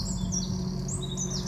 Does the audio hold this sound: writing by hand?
no